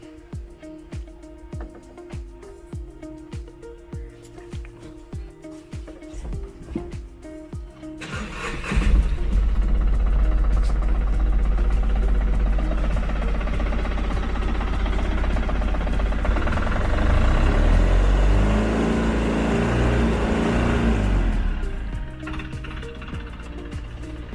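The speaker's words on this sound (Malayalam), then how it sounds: "ഈ വണ്ടി മാത്രം ഞാൻ ജസ്റ്റ് ഒന്ന് സ്റ്റാർട്ട് ചെയ്ത് ഏൽപ്പിച്ചു തരാം." A 2022 Tata Ace Gold mini truck starts after several seconds of faint clicking and handling noise, then its engine settles into a loud, steady, rumbling run with a slight swell before easing back toward the end.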